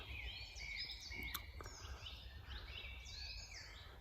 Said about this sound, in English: robin, lots of robins here,